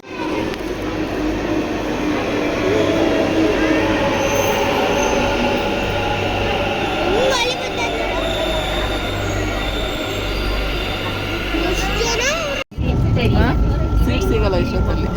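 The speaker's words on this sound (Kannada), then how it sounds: "ಮೆಟ್ರೋನಲ್ಲಿ ಹೋಗೋರು ಎಷ್ಟು ರಶ್" A Bengaluru metro train runs at speed with a loud, continuous rumble, wheel squeal and rising whine inside the carriage, then a brief break and a renewed roar, while people talk in the background.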